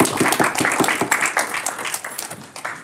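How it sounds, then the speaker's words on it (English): Audience at a Toastmasters club meeting in Dubai clapping, dense close applause from a small crowd that stays steady and then eases off, with no one talking over it. "let's give a huge, huge, huge round of applause to our James Bond team"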